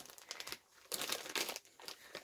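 A vacuum-sealed plastic package being handled, with close, quiet bursts of crinkling and rustling plastic coming in uneven clusters.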